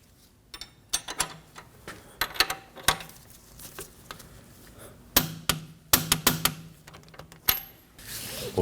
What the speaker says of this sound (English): And we can torque this to 173 foot-pounds.